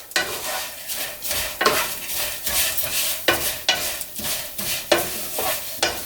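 Vermicelli fideo noodles being stirred in a frying pan, a steady sizzle broken by repeated close scraping strokes of a utensil at a regular rhythm, with no voices.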